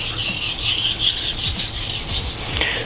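A santoku knife's back side is sharpened with steady rasping strokes on a stone, a close, continuous scraping hiss that rises and falls with each pass.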